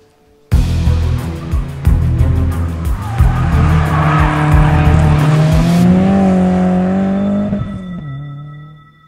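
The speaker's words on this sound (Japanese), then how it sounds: "さあ、どんなドリフトをするか見ものだね。" A Honda S2000 drifting in a drift match, close and loud: the engine revs hard and bounces off the limiter while the tires squeal in a long, sustained screech, then the car drops away quickly at the end.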